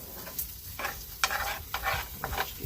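Pan full of potatoes frying in lard, a bright sizzle that swells in repeated bursts as the pieces are stirred and moved around, with no one talking.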